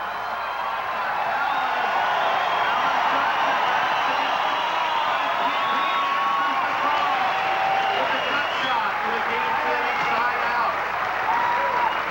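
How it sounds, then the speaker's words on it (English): Crowd cheering and applauding at a 1991 beach volleyball final in Belmar, a dense continuous roar of clapping and whoops that stays loud throughout. "It's the way the crowd has been all weekend long. Every excellent play, really giving it up for the players."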